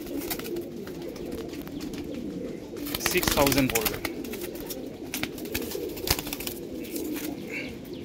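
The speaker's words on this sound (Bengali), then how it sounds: "দেখুন পায়রা" Pet pigeons of a breeder's Andhra stock cooing in their loft, soft throaty coos with a burst of wing flapping midway, while someone talks over them throughout.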